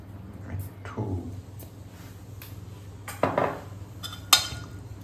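A spoon clinks against a bowl while salt and water are stirred into semolina batter for appam, giving a few scattered metallic taps and scrapes, fairly quiet and close.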